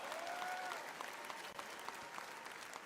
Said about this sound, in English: Barely anyone claps